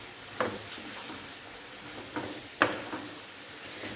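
Chunks of potato tumble into a frying pan of green onions and peas and get stirred, faint sizzling under a few soft scraping clinks of a spoon against the pan.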